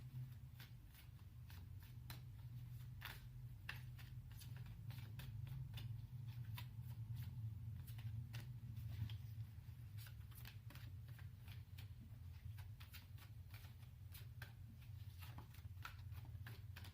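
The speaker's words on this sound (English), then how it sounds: "sometimes it takes a while to shuffle" Quiet, rapid riffling and flicking of tarot cards being shuffled over and over, soft crisp snaps in an uneven rhythm against a low background hum.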